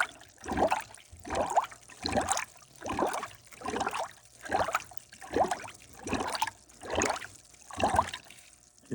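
Coolant and air bubbles gurgle through a squeezed radiator hose on a 1999-2005 Oldsmobile Alero or Pontiac Grand Am, nine or ten evenly spaced wet glugs about a second apart, close and fairly loud.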